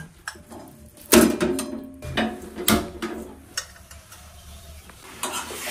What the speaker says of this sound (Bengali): ফুটতে শুরু হয়ে গেছে, অল্প অল্প ঘি বেরোতে শুরু হয়েছে।